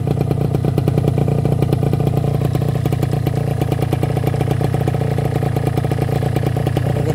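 A Kawasaki Ninja R motorcycle idles nearby with a steady, fast, rattling two-stroke putter, loud and even throughout and without any revving.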